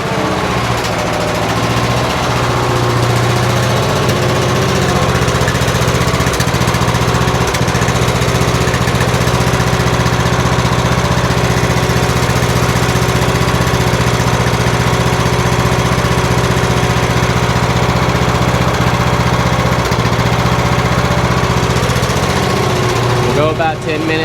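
Cub Cadet riding mower with freshly tightened valve cover bolts, its engine running steadily and loudly at a constant idle throughout, a close rumbling drone with faint rattles.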